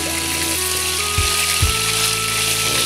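Salted chicken pieces fry in hot oil, giving a steady loud sizzle with a couple of low thumps partway through as pieces shift in the pan.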